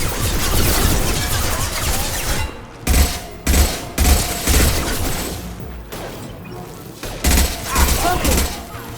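Impact shots and weapon fire in Mass Effect 2 on Insanity difficulty, a dense fusillade of loud, close bursts that leaves several sharp gaps and then resumes, with combat voices speaking over it.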